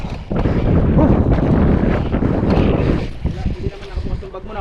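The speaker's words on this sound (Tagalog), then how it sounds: "Dami na laking alon." Big sea waves around a small fishing boat: loud, continuous rushing water and wind buffeting the microphone, with voices talking over it.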